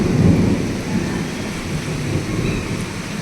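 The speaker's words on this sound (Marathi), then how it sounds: "पावसात विजा कडकडतात ना, विजाची भीती वाटते." Thunder rumbling during the first heavy rain in Pune, a low continuous roll over the steady hiss of rainfall, with no voices.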